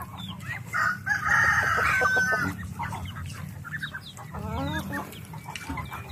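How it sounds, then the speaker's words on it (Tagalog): Native chickens cluck steadily on a farm while a rooster crows once nearby, with further cackling and clucks and other birds chirping in the background. "mabilis may dispose kasi yung mga native na manok"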